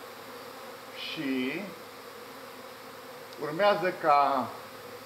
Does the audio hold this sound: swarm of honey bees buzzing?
yes